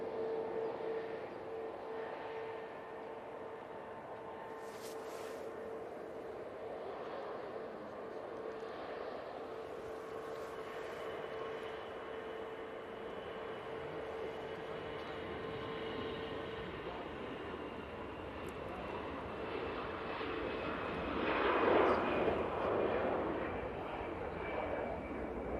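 An easyJet Airbus A320-200 spools up its jet engines on runway 05 left at Manchester, a steady whine and rumble building gradually and swelling louder near the end, with a voice talking briefly over it.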